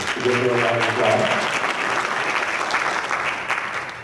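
A round of applause from an audience at a school board meeting for an elementary school principal, dense steady clapping filling the room, with a voice briefly audible at the start.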